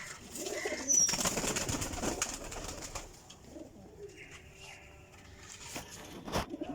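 Pigeons in a breeder's loft coo in soft, repeated calls, with fluttering and light patter around them at close range, no talk over them.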